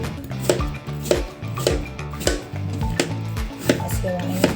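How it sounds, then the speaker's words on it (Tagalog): A knife chops fruit into small pieces on a cutting board for a Filipino Noche Buena fruit salad, producing a steady rhythm of close, crisp thuds about twice a second, with a voice speaking faintly underneath. "Tapos hiwain natin siya ng maliliit."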